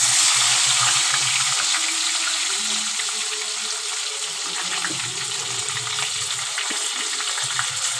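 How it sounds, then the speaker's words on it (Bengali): Onion frying in hot oil with cumin seeds for chicken curry, giving a steady, loud sizzle and crackle with light stirring, continuous and close. "এখন আমি পেঁয়াজটা ফোড়নে দেব"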